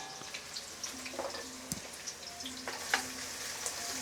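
Chopped onion dropped into hot oil for veg Hakka noodles, a soft, steady sizzle with scattered crackles and light spoon scrapes, fairly quiet and close, with no talking.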